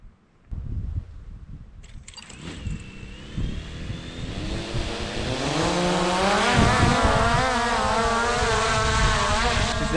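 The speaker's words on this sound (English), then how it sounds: "Nice and loud. It's a Skydio." A Skydio drone starts up and lifts off at the Glamis sand dunes, its rising rotor whine building quickly into a loud, steady buzz with shifting tonal bands, close to the listener and with no talk.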